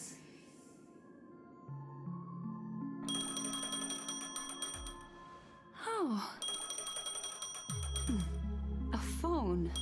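A phone rings in the Honkai: Star Rail video game, a bright repeating electronic trill over layered game music, with a brief gasp-like voice near the start.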